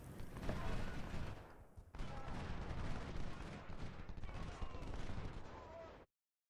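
Infantry volleys in the Civil War strategy game Ultimate General: Civil War crackle as a dense, continuous fusillade of overlapping musket shots, loud and busy throughout before cutting off abruptly at the end.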